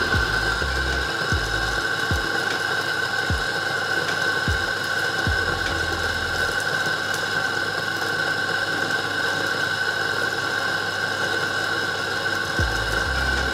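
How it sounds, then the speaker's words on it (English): A home grind-on-demand coffee grinder runs steadily and loudly, with a sustained whirring hum and a ratcheting, rattling texture, plus a few low thumps early on; it carries on alone without talk. "And now let's just check how loud this grinder is."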